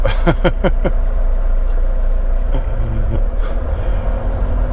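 A car rolls along with a low steady engine rumble and road noise, with a few faint clicks and rattles inside the cabin and some brief indistinct voices near the start.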